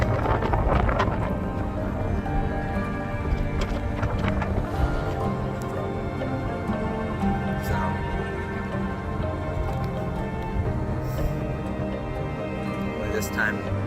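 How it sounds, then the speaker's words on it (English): Strong wind buffets an outdoor microphone at the edge of open ground, a constant loud low rumble and roar that runs through the whole stretch with gusty swells. "it's way too windy"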